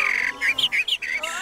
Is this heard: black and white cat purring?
no